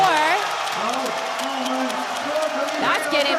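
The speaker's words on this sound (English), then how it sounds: "That's getting the crowd going right now." A basketball crowd cheers and applauds after a buzzer-beater three-pointer in a Formosa Taishin Dreamers vs Hsinchu Jko Lioneers game, a steady roar of the arena under an animated commentator's voice.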